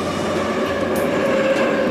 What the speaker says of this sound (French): C'est les rames qui passent derrière.